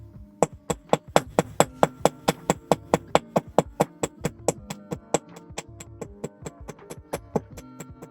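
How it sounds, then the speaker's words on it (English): Metal is hammered flat on an anvil in a workshop, with a long run of sharp ringing strikes in a fast, even rhythm, loud and close, gradually thinning toward the end. "That's where I'm going to hammer it to."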